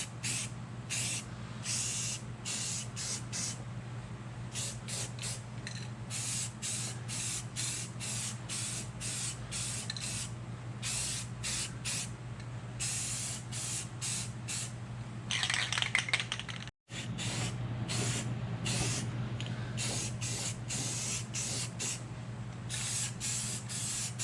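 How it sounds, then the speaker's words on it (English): Automotive primer hisses from a spray can in short repeated bursts, close and steady, with a pause partway through while the can is held between passes. "It's just some primer, automotive primer that matches what's underneath this paint now. So I'm gonna go and dust that on there."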